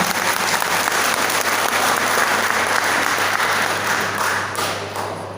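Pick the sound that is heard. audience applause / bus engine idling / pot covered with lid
audience applause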